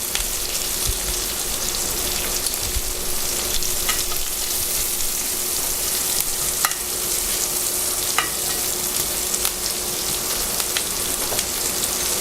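Carrots sear in a hot pan over a high flame, giving a steady close crackling sizzle with occasional sharp pops, heard alone with no talking.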